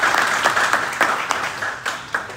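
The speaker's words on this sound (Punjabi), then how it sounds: "ਸੋ ਕੋਚਿਸ ਵਾਸਤੇ ਇੱਕ ਵਾਰੀ ਤਾੜੀਆਂ।" A crowd gives a round of applause for the coaches at a GHG Academy Fresno honoring event, dense clapping that rises and falls in small surges, with some voices mixed in.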